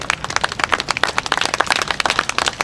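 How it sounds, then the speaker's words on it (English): Mourners at a graveside celebration of life clap their hands in praise, a dense run of quick, sharp claps from a small group, moderately loud and continuous. "Let's give God a hand clap of praise for a life well lived."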